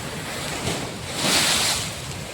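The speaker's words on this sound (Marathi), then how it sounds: "हे गेट्स आहेत आणि या गेट्समधून हे पाणी या ठिकाणी या गोदावरी पात्रामध्ये पूर्ण क्षमतेने" Water gushes through the open gates of Jayakwadi dam into the Godavari river at full discharge, a continuous broad roaring rush that swells briefly in the middle, with no talk.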